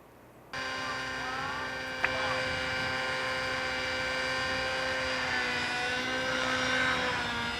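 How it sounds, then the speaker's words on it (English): A small autonomous helicopter flies and flips, its rotor and motor whine starting abruptly and holding steady with strong tonal hums and a brief knock, heard fairly close and alone. "Got the helicopter to flip."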